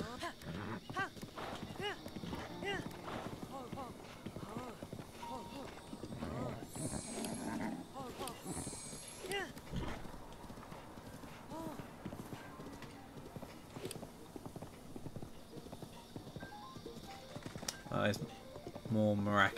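Rhythmic clip-clop of horse hooves while riding in the video game Breath of the Wild, Master Mode, steady and moderately close, with a person talking over it throughout.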